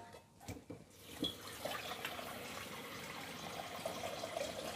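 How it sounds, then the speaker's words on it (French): Tap water pours steadily into a basin for washing nettles, a continuous splashing rush after a few brief knocks at the start. "Je vais remplir une autre bassine d'eau et je vais faire plusieurs bains."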